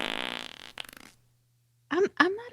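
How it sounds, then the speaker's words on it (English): A fart sound effect plays as a drawn-out raspy blurt followed by a shorter sputtering burst, then a pause before a person starts talking. "So I loaded up some fart sound effects"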